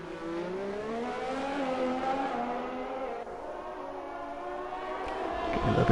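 Onboard engine of a Ferrari Formula 1 car in an F1 racing game at the Austrian circuit, a high-pitched whine climbing and holding steady, loud and close, with a brief drop near the end.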